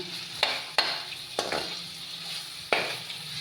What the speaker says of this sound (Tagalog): Pa-brown-brownin lang natin siya ang bawang.